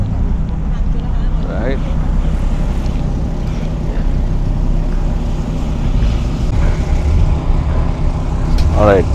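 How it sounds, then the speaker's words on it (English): Cars pull away from a parking area at the Dubai Motor Show 2021, among them a twin-turbo V8, their engines rumbling steadily with brief rising revs in an open outdoor setting. "some cars are leaving from here, the spot now"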